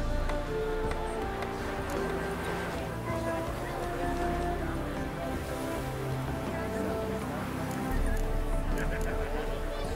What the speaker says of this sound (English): My coin's on the Black Stallion, Nemrod, purest Nilfgaardian stock